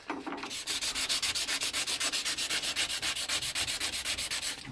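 Rapid, even back-and-forth scuffing strokes against a Kawasaki KV75 clutch plate to take the glaze off, about four strokes a second, close and steady, with no voices.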